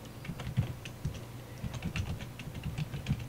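Close, quick clatter of keys on a computer keyboard, an uneven run of light taps and thumps with no voices.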